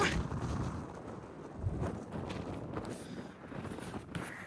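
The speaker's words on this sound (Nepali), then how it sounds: "एकदम हावा चलिरहेको चिसो हावा चलिरहेको छ" Strong, cold gusty wind on a hilltop buffets the microphone in uneven, rumbling surges, rising and falling without a break.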